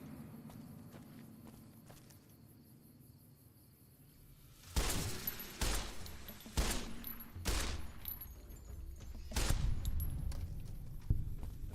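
Gunfire in Fallout: New Vegas cracks out in sharp bursts after a quieter stretch, several loud shots spaced unevenly over the second half, close and with no voices.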